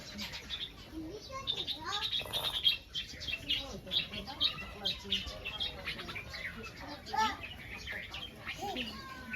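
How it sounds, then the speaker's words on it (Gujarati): Sparrows chirp and tweet in quick, busy bursts nearby as they come to feed on Uttarayan, with people talking softly underneath. "ચકલા આવી ગયા છે."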